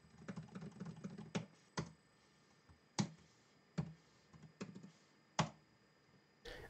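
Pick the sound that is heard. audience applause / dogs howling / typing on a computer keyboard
typing on a computer keyboard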